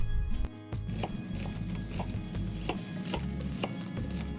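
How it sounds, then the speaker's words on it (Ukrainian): Knife slicing an onion into half rings on a board, a series of crisp, evenly spaced chops close up, about eight to ten cuts in a regular rhythm. "Цибулю нарізаємо півкільцями, нехай вона буде не дуже товстою, але і не тонкою."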